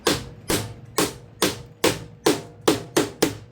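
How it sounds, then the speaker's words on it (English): A rubber hammer strikes an e-scooter battery pack, an upgrade from 48 volt 10 amp hour to 30 amp hour, eight sharp close thuds at a steady half-second rhythm, each fading quickly, with no talk. "I'm going to get a rubber hammer"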